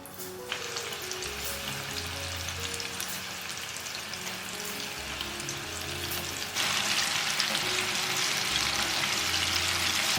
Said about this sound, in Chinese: 不裹好粉了就可以下锅炸了，油温6成热的时候放下去炸